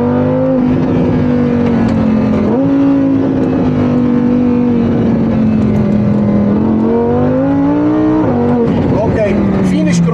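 A Ferrari 458 or Lamborghini Huracán on a short timed track section, its engine droning loudly and climbing in pitch through gear changes, with a voice speaking over it.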